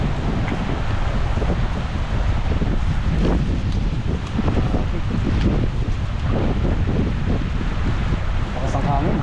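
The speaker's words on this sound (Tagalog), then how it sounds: "Lakas po ng hangin dito." Strong wind buffets the microphone beside a river in Taiwan, a loud continuous roar with gusty surges, and people talk faintly underneath.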